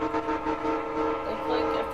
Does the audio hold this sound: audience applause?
no